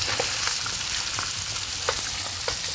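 Skin-on herring fillets fry in an oiled pan, a steady broadband sizzle with scattered small pops and crackles throughout, close and even, with no voices.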